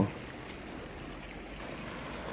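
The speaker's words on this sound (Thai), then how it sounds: "นี่ครับดูคลื่นซัดฝัง" Waves wash onto the sandy shore of a beach at Khao Phlai Dam in Nakhon Si Thammarat, Thailand, making a continuous, even roar of surf mixed with wind noise, with no voices.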